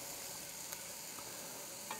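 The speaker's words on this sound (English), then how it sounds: "don't know if you guys can hear that sizzling going on in that pan." Onions and garlic sizzle quietly in a hot Dutch oven, a soft, steady crackle with a few small pops.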